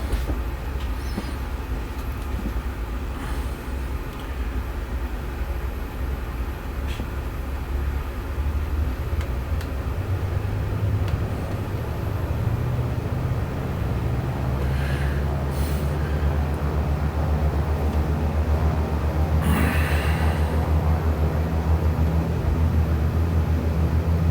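A twin-engine Cessna 414 taxis in a flight simulator, its engines holding a steady, loud low droning hum with slow pitch shifts and a few faint clicks and bumps throughout.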